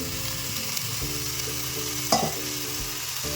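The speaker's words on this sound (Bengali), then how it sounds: "আলু ফুলকপির সাথে মশলাটা খুব ভালোভাবে মিশিয়ে নেবো ভালোভাবে কষিয়ে নেবো" Fried potatoes and cauliflower being sautéed with spices in a pan, a strong continuous sizzle with repeated stirring scrapes and one sharper clank from the utensil partway through.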